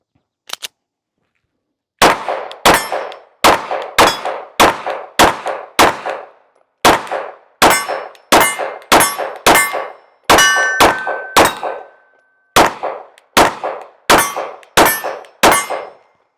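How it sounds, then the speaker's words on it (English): A Sig P365 Fuse pistol fires from 21-round magazines in a loud string of sharp, echoing shots. They come in quick uneven bursts with short pauses between groups, each crack ringing briefly, and no talking is heard. "So let's shoot these 21 round mags real quick."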